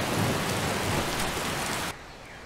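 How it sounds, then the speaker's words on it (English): Steady, dense rain from a video game set in Riverwood, pouring loud and close without a break, then dropping abruptly to a quieter patter near the end; no voices. "Wow, the rain."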